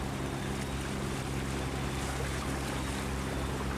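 An anchovy fishing boat speeds toward Binh Ty port, a steady, continuous rush of engine drone, hull and water noise with wind, holding even throughout.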